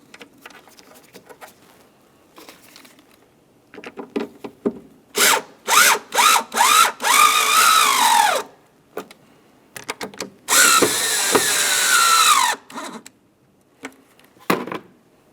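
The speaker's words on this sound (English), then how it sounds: "Now we can put in our 2 mounting screws." Power drill driving two taillight mounting screws into a 2000-2006 Chevrolet Tahoe, with short stuttering trigger bursts and then longer whining runs, plus handling clicks between them, close and loud.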